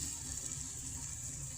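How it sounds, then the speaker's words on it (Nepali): Cold water pours steadily from a tap into a cooking pot while buff sukuti dried meat is being prepared, a continuous faint rushing stream with no voices. "म चाहिँ चिसो पानी लाउँदैछु अहिले चाहिँ"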